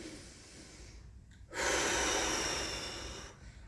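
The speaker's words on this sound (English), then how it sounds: "nice deep breath in" A single long, deep inhalation during a lower-body stretching routine, drawn in close to the microphone as a breathy rush that swells and then slowly fades.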